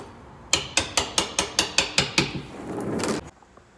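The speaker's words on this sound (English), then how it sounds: "Sometimes you gotta give that bolt a little tap to get it started." A hammer taps a bolt to start it while installing a kit on a 2017 Mercedes Sprinter 3500, about nine sharp, evenly spaced metallic strikes close by, followed by a brief rattling scrape.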